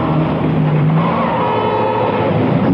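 A Fiat 124 family car driven by stunt driver Remy Julien roars steadily at close range, a loud, continuous engine drone with slight tyre and road noise throughout.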